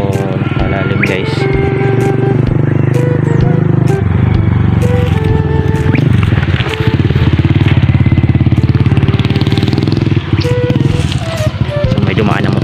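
A motorcycle passes on a rough rural road in the hills of Tuburan, Cebu, its buzzing engine loud and close over a constant low hum, rising and fading with the pass.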